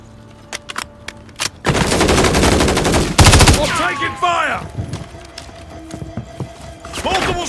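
Call of Duty: Modern Warfare 3 gunfire, loud sustained automatic bursts and a heavy blast mixed with shouted voices and battle chatter, running on through scattered shots and other combat noise.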